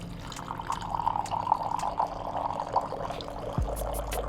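A Solaris WaterGen dispenses drinking water in a steady pouring trickle, heard alone and fairly close for several seconds, with a low hum underneath that shifts near the end.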